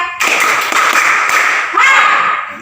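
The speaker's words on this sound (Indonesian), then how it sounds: "Yang terakhir tepuk 3." A group at an indoor training session claps a rhythmic pattern together, short tight bursts of claps set against voices chanting along.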